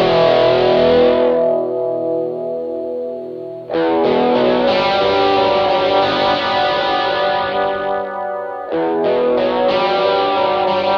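Electric guitar with active pickups played through a Rockman headphone amp, giving thick, compressed distorted chords with echo and chorus; sustained chords ring, break off briefly, then resume, loud and alone.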